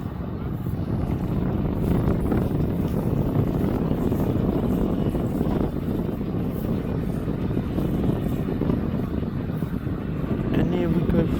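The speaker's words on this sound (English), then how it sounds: "jet will turn around to face for his taxiway for his takeoff" Jet aircraft taxiing toward the runway for takeoff at Birmingham airport, a continuous broad roar of engines with wind buffeting, heard from a distance and steady throughout.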